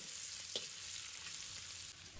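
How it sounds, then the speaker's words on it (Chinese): Ginger and garlic stir-frying in rendered lard with golden pork belly in a wok, a steady close sizzle with a few soft spatula taps and no talking. "这个时候把刚才切好的姜蒜放入锅中，继续给它们炒香。"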